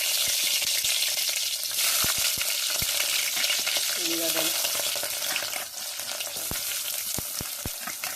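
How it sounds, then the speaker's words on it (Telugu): Onions and green chillies fry steadily in a pan for a chicken curry, a continuous close sizzle with scattered sharp pops and a brief clink of a utensil partway through. "ఉల్లిగడ్డలు జర బాగానే వేయించుకోవాలి. మంచిగా ఒళ్ళు ఎర్రగా మాడిదాకా, బ్రౌన్ కలర్ వచ్చేదాకా."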